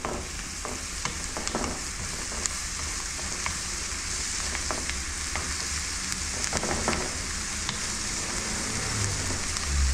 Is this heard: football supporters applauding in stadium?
no